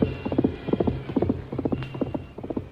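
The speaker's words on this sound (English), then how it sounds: "Silver's hoofs beat out a savage tattoo." A galloping horse pounds across rough ground in an old-time Western radio drama, its hoofbeats falling in quick, loud, close triplets that repeat steadily throughout, with no voices.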